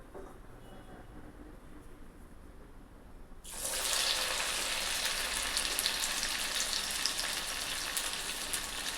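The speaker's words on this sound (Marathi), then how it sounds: "दुसरी भजी आपण टाकणार तळायला" Bhaji fritters dropped into hot oil, a quiet bubbling background that jumps suddenly into a loud, steady, hissing sizzle partway through and stays close and continuous, no voices.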